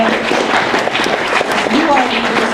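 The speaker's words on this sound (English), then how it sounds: "give your parents and your family a big round of applause" A crowd at a graduation ceremony claps continuously for parents and families, a dense, even wash of applause with some crowd noise mixed in.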